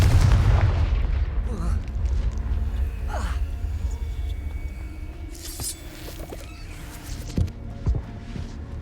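Confringo fire-blast spell in the Hogwarts Legacy video game: a loud booming burst at the start, followed by rumbling and crackling combat effects and a few sharper impacts later.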